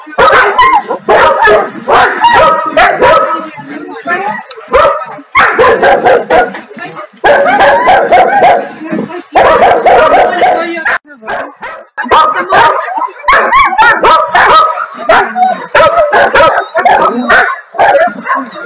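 Several big dogs bark, yip and howl in loud overlapping bursts, close and continuous with brief pauses, while people talk among them.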